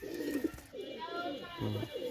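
Pakistani Teddy pigeons give repeated low coos in short rounded bursts, close by, with faint background sounds between calls.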